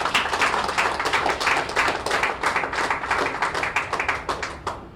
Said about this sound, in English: That deserves a round of applause, ladies and gentlemen.